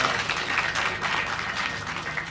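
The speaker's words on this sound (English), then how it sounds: "Another round of applause," Crowd applause at the live 2023 KCPE results release at Mtihani House, South C, a steady, dense wash of clapping from an assembled audience, sustained and fairly loud throughout with no talk over it.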